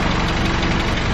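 A VW Golf R MK7 engine runs steadily at idle after new spool valves were fitted for a noise fault, a loud, close, continuous mechanical hum with no speech over it.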